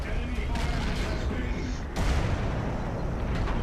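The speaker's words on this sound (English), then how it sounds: "I had to shoot there because I wasn't sure who's shooting me" Tank cannon fire in World of Tanks, playing a Tiger: a dense, rumbling barrage of game gunfire and explosions that stays loud throughout, with a sharper fresh blast near the middle.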